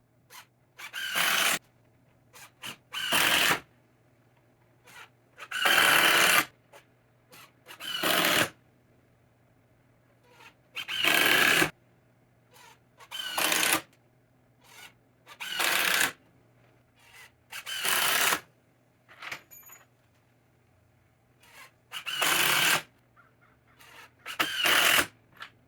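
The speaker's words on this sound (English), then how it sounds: "Now I go and put in 2 screws on the angle on all 8 junctions." Screws are driven into the junctions of a solar panel framework, heard as a series of about a dozen short, loud bursts of a power driver whirring, separated by quiet pauses, close by.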